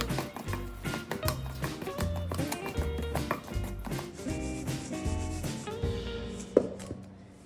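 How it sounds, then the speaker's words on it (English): A pastry cutter works bear lard into a flour mixture for homemade biscuits, a close, steady run of rubbing, chopping strokes against a bowl, with one sharper knock near the end. "I'm going to use a pastry cutter to cut into the flour mixture until it resembles sort of coarse oatmeal"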